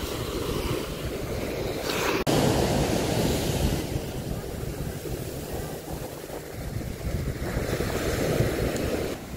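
Ocean waves washing in at a beach in Hawaii, a steady broadband rush of surf mixed with gusty wind buffeting the microphone, with no speech heard.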